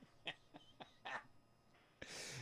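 Several short, dry coughs come in an irregular run, close and fairly quiet, then a breathy burst of noise at the end.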